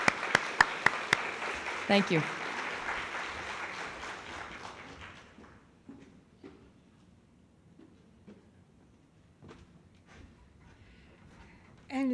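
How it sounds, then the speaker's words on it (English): Applause from an audience at a university student employee of the year ceremony, a few sharp claps then a brief burst that fades out within a few seconds, followed by quiet room noise and a short spoken thanks. "we're going to give you a round of applause anyway"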